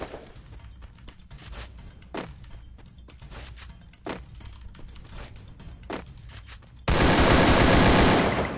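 Rapid automatic gunfire from the mobile battle-royale game Free Fire: scattered single shots and short bursts, then a loud sustained volley near the end.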